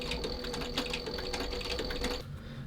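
Sewing machine stitching a leather shoe upper with a fine stitch of roughly 12 stitches per inch, a steady rapid mechanical whir running continuously at close range before stopping abruptly near the end.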